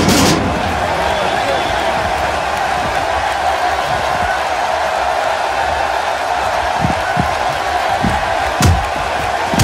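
Crowd roaring and cheering in a wrestling arena during a John Cena versus Kevin Owens match in WWE 2K16, a steady loud wall of noise with a few sharp impact thuds near the end.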